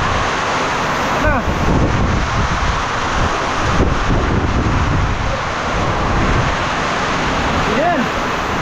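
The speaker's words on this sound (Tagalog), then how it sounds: "Malakas ang hangin." Heavy wind roaring and buffeting the microphone in a constant broadband rush on a farm in near-zero visibility, with brief voice fragments breaking through now and then.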